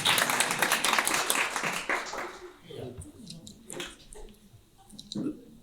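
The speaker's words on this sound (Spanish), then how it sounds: "Den un aplauso a la Magus, pues." A church congregation applauds, a dense burst of clapping for about two seconds that fades out, followed by scattered small noises and a voice speaking.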